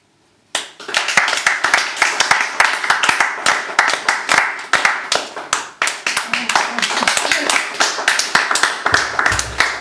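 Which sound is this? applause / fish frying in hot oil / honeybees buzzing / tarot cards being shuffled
applause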